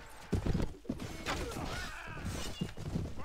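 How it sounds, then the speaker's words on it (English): Cavalry horses charge in the Clash of Kings battle game, a rumble of hooves mixed with thuds and clashing combat, moderately loud and continuous with irregular impacts. "Soon our cavalry will charge in."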